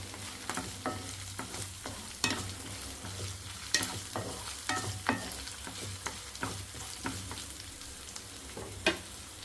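Ginger garlic paste with onions and green chillies frying in a pan, sizzling steadily while a spoon scrapes and stirs in quick, irregular strokes, close up and with no talking.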